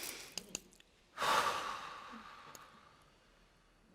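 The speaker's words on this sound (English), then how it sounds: "let's take a breath." One long, audible exhale of a deep breath taken during a spiritual talk, close to the mic and fading slowly, after a few faint clicks.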